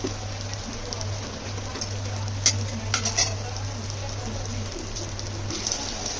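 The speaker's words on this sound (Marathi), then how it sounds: "इकडे मी आता दुसरी पण मच्छी टाकून घेतली आहे तव्यावर" Fish frying on a tawa griddle gives a steady close sizzle with a low hum beneath it and a few sharp clatters in the middle, and no voices are heard.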